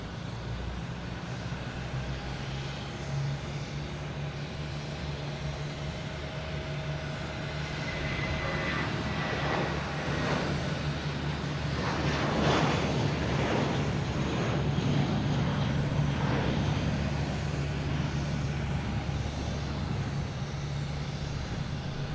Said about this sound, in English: We have JetBlue here heading to Detroit,